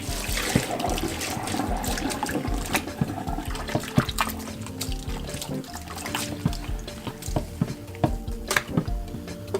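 A fryer with a Teflon coating being scrubbed with a sponge and water, soft wet swishing and scraping with small splashes and clinks, fairly quiet and close with no talk.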